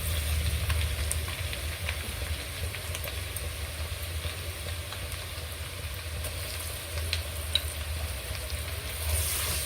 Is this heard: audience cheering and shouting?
no